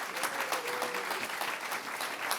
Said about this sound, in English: So let's give a round of applause to our panelists.